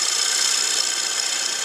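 A wooden bowl is trimmed on a wood lathe, with the gouge producing a continuous bright, hissing shear as it cuts the spinning wood, loud and close, steady and unbroken with no voices.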